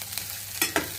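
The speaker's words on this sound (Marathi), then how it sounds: "आता मी कढईमध्ये कांदा टाकला आहे आणि थोडं छान असं लालसर होईपर्यंत परतणार" Onion frying in a kadhai for paneer gravy, a steady close sizzle broken by two quick scraping stirs near the end.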